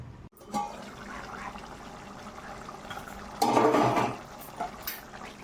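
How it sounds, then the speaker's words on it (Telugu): Water pours from a small glass into a pan of gongura chicken curry, a short splashing gush in the middle of the clip over a quiet kitchen background. "చిన్న గ్లాసుడు వాటర్ వేసి కొంచెం మనం ఉడకనివ్వాలండి"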